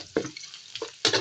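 Garlic sautés in a pan until browning, with a few short bursts of spoon scraping and stirring over a soft, close sizzle.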